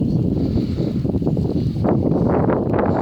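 Strong, steady wind roars and buffets across the microphone at a riverside fishing spot on a drizzly March morning, a continuous loud rumble throughout.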